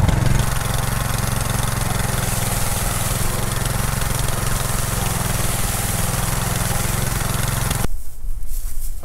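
A tub mixer's engine runs after its carburetor was cleaned, a loud steady close drone with a rapid regular chug that cuts out abruptly near the end.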